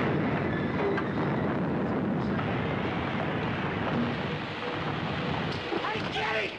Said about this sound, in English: There's a train through the viaduct!